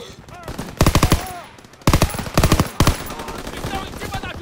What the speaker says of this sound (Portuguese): Atirando!